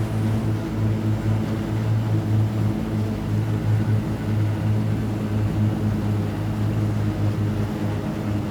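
Propeller engines of a Trislander aircraft in MS Flight Simulator 2020 drone steadily throughout, a loud continuous hum with low harmonic tones on final approach with flaps extended.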